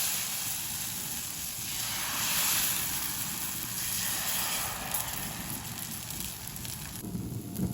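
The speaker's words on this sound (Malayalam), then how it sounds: "മറ്റൊരു ദോശയും ഇതുപോലെ ഒന്ന് ചുട്ടെടുക്കാം." A dosa cooks on a hot pan, giving a soft, steady sizzle and hiss that continues evenly throughout at low volume.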